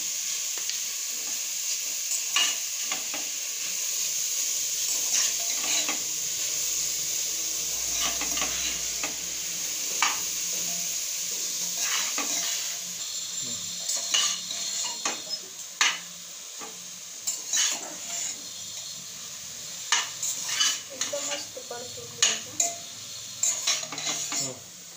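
Grated carrot for halwa sautéing in a pan, a soft steady sizzle with irregular spoon clinks and scrapes against the metal that grow busier toward the end, no voices.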